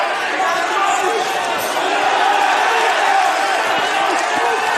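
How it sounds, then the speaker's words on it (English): A boxing crowd roars and cheers continuously and loudly throughout a fight, a dense wash of voices with a commentator talking over it. "What an atmosphere. Oh, the crowd's in this."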